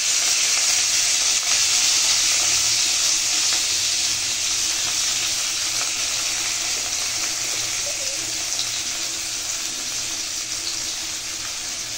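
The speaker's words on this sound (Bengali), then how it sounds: "পেঁয়াজ আর টমেটো খুব ভালো করে ভাজতে হবে তেলে, যতক্ষণ না পর্যন্ত টমেটো আর পেঁয়াজটা নরম হয়ে যাচ্ছে।" Chopped onion and tomato with a pinch of black cumin fry in oil for a light fish curry, giving a steady, fairly loud hiss and sizzle that holds evenly throughout with no talking.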